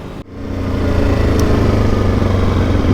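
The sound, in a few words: dirt bikes riding along bitumen road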